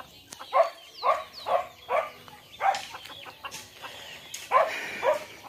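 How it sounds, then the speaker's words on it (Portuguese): Farmyard chickens clucking and calling in a run of about seven bursts, close and fairly loud, with a higher squawk near the start and no talk. "Minhas galinhas, ó."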